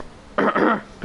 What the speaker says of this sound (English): this goddamn cough needs to go away